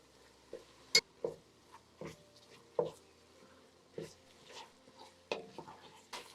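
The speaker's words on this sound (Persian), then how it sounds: "توی این مرحله رب گوجه فرنگی رو اضافه میکنم و کاملا مخلوط میکنم تا رنگ قرمزش با گوشت یک نواخت بشه" Tomato paste being stirred into cooking meat in a pan, heard as faint, scattered scraping and tapping strokes of a spoon at an irregular pace, with a soft sizzle underneath.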